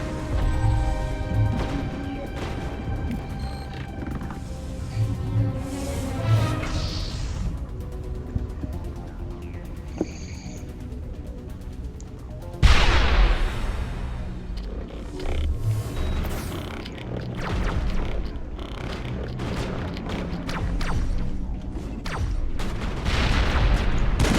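Gunfire and combat noise from the Mass Effect video game, including a sniper shot, come as a dense, loud, chaotic mix of bursts, crashes and grunting effects, with a sharp impact near the middle.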